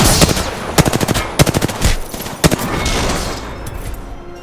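Automatic weapon fire in the battle royale game Apex Legends, rapid bursts of close, loud shots in several clusters with brief pauses between, over a steady background din and no talking.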